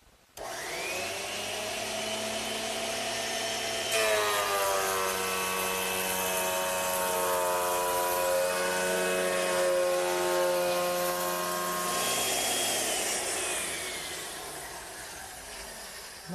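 A thickness planer spins up and feeds a wood blank through, holding a loud, sustained motor whine layered with shifting cutting tones for several seconds before winding down.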